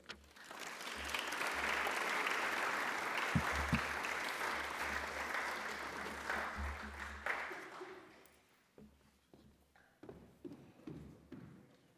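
An audience applauds speech competition candidates as the event gets underway, a dense, sustained round of clapping that swells, holds, then thins out into scattered last claps.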